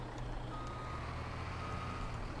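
Reversing beeps from a truck backing up in the Farming Simulator 17 video game, a steady beeping over a continuous low engine rumble, with no talking.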